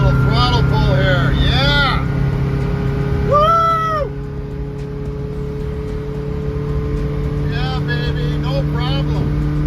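A Subaru engine fitted in a 1974 VW bus with a belly radiator, driving on the road in Wisconsin, giving a steady droning hum with a brief rising throttle swell, while a voice whoops and calls out over it.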